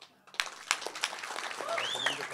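An audience claps at the Utsavam movie teaser launch, a dense crowd applause that swells after a brief quiet start, with a voice speaking over it.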